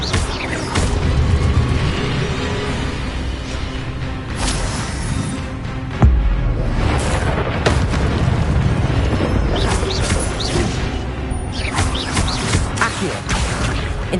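Incendio fire spells cast in Hogwarts Legacy, repeated bursts of whooshing flame and booming impacts spaced over a busy, continuous backdrop of game effects.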